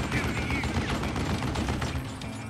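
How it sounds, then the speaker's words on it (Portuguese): Rapid bursts of gunfire in the video game Call of Juarez: Gunslinger, dense and continuous, with a mechanical clatter running under the shots. "Dois tiros."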